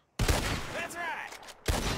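Gunfire in Red Dead Redemption 2 during a bottle-shooting contest, with two sharp loud shots opening and closing a brief stretch of dense noisy game sound and a voice.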